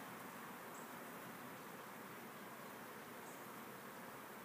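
Honey bees in an open hive during an inspection, building comb, make a steady, dense, faint buzz that drones on without pause and with no voices over it.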